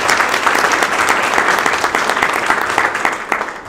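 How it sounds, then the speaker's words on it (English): Sustained, dense hand-clapping applause from an audience at a graduation ceremony, loud and steady throughout with no pauses. "Give yourself a hand clap, guys."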